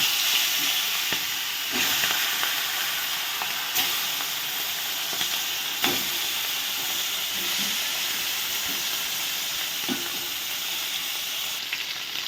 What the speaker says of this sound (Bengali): কড়াইয়ে আমি তেল বসিয়ে দিয়েছি এবার মাছের মাথাগুলো দিয়ে দেব